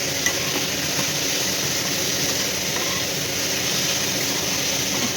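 Bottle gourd greens frying in a pan with salt, sugar and turmeric, a steady close sizzle and hiss with soft stirring scrapes throughout, no voices.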